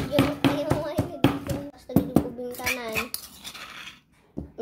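A hand chopper from Hong Kong chops garlic with quick, rhythmic knocks and clacks, close and fairly loud, while a person talks over much of it before the sound stops briefly.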